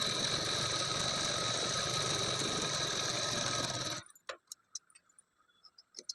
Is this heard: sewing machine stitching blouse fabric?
yes